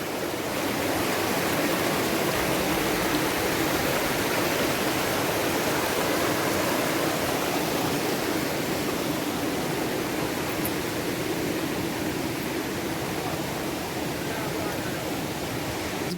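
Steady rushing flow of river water at a camping site in Vauxhall, St Elizabeth, Jamaica, a dense continuous wash that stays even and close for the whole stretch with no talk over it.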